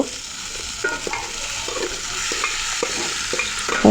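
Boiled red amaranth greens are tipped into a pan of onion and garlic fried until brown, bringing a continuous sizzle with repeated scraping and tapping from the utensil and no talking.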